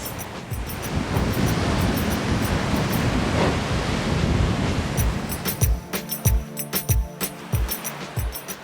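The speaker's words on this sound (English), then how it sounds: "The waves here are so strong and they just crash against these limestone rocks." Steady roar of Caribbean surf at Fort James, Antigua, with strong waves breaking and crashing against limestone rocks, then sharper splashing bursts toward the end, loud and close with some wind noise.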